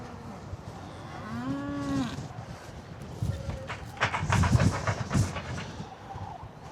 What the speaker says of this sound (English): And there the calves are outside.